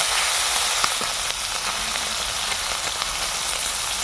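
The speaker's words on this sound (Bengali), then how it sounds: "মাছ ভাজার কাজ চলছে।" Koi fish frying in hot oil in a pan, a steady dense sizzle and crackle that holds throughout, close and fairly loud with no voices.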